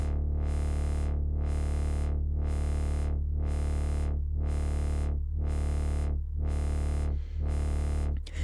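A wavetable synth holds a sustained tone while an LFO slowly sweeps its filter frequency, producing a regular rhythmic opening and closing that repeats about once per second for over eight seconds, fairly quiet and alone.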